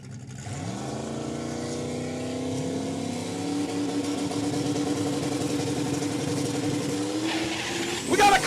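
A Camaro and a Mustang launch off the line at a drag strip, engines screaming and rising in pitch together as the cars pull away, loud and sustained with a brief tire chirp near the end.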